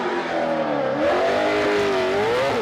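A drift race car in qualifying at Suzuka Twin Circuit in Mie roars close by, its engine note rising and falling loudly as it speeds through, with no talk over it.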